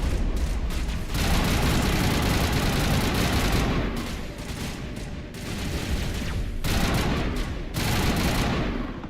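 Dense, loud gunfire in the Mass Effect video game keeps up almost without a break, sustained automatic bursts with short dips, as an enemy's shield takes hits.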